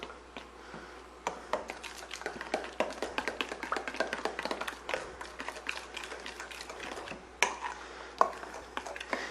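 Spoon stirring a polenta lasagna cheese filling of shredded mozzarella in a bowl, a close, steady run of light taps and scrapes that continues alone with no talking.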